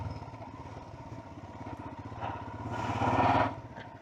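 A Royal Enfield Himalayan 411 motorcycle is ridden, its single-cylinder engine thrumming steadily at moderate volume, then swelling briefly as the revs rise near the end before settling back.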